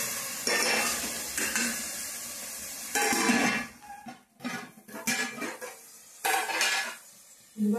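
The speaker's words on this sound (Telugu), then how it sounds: "టమాటాలు ఉల్లిపాయలు ఈ విధంగా అయితే బాగా వేగుతూ ఉన్నాయి" Tomatoes and onions fry in a pan for a mushroom curry, with a steady close sizzle and bursts of utensil scraping and stirring against the metal.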